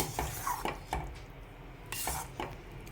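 Vegetable upma is stirred in a pan, with a metal spoon scraping and knocking against the pan in several distinct strokes over a faint sizzle.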